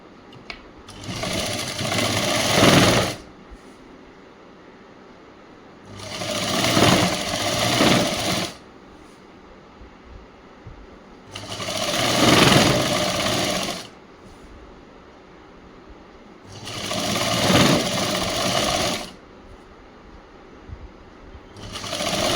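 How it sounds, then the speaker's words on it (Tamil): A sewing machine stitches the folded hem of a chudi-style school uniform top in four distinct bursts of about two to three seconds each, separated by quiet pauses, close and fairly loud. "இப்போ அடி மடித்து தைச்சிருவோம்"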